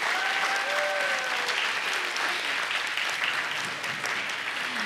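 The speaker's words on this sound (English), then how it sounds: "Can they have another round of applause" Audience applause at a grade 5 school arts festival, strong continuous clapping with a few faint voices and cheers mixed in, steady throughout.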